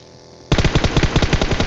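M4 assault rifle in PUBG Mobile, a sudden close burst of rapid automatic fire after a moment of quiet, loud, sharp shots in quick steady succession.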